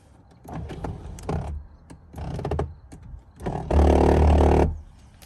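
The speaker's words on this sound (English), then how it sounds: "Sunroof motor gear is stripped" A 2007 Mercedes W211 E550 panoramic sunroof motor with a stripped gear: several short whirring, rattling bursts separated by pauses, followed by one longer, louder grinding run up close.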